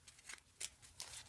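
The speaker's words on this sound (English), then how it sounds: "They could shuffle" Playing cards shuffled in a quiet close-up card magic setting, giving three or four soft, crisp riffling bursts with short pauses between, faint and intimate with no talking.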